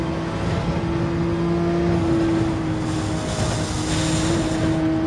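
A Porsche 911 RSR engine at full throttle in Gran Turismo 7 on Dragon Trail Seaside, a loud steady high-revving drone with a held tone, close and continuous with no talking.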